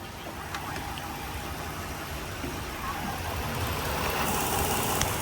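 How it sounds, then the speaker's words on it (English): A 2013 Ford F150 STX with the 3.7L V6 idling steadily with the hood open, a close, even engine hum with faint ticking from the fuel injectors. "The injectors could be a little noisy"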